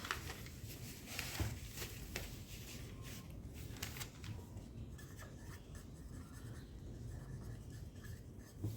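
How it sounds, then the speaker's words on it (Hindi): A pen writes out a math solution on a sheet of paper, faint scratchy strokes in short bursts with light rustling, quiet and close. "यहाँ पे लिख देती हूँ सोल्यूशन ई पार्ट"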